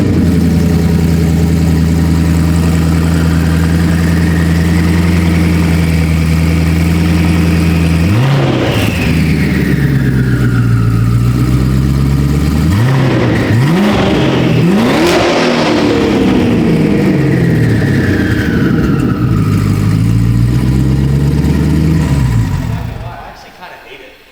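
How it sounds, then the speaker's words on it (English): A twin-turbo Ford Mustang S650 fitted with a Corsa exhaust idles loudly with a deep drone, then revs up sharply several times, climbing and falling between blips before the engine shuts off near the end. "we obviously need to get a turbo dump startup"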